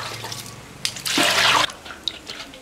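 Beef tripe rinsed under a running tap, a burst of splashing water swelling for about half a second in the middle between quieter drips and handling sounds, close by.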